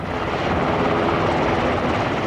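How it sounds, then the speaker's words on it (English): A Coast Guard Black Hawk helicopter at an offshore powerboat race rescue, its rotor and engine roaring loud and steady with dense broadband chop throughout, close by and alone without voices. "So we brought in a Coast Guard Black Hawk helicopter."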